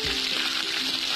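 Curry leaves drop into hot oil with mustard seeds and cumin for a sambar tempering, and a loud, continuous sizzle with dense spattering crackle sounds close up.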